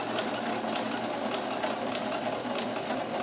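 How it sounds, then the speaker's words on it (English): A Kenmore 158.1914 mechanical sewing machine sews a maximum-width zigzag stitch with a continuous, even whirring hum and fast, regular needle ticks, close and moderately quiet, with no voices. "if I put it up to the maximum width, which is quite a wide stitch on this machine"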